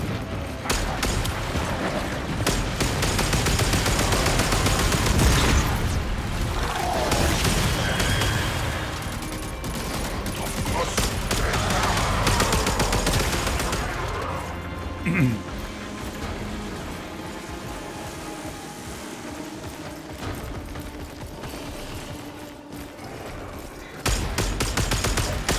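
A big gun firing in the video game Warframe, dense rapid bursts of gunfire forming a loud sustained barrage, easing off later with a few isolated blasts.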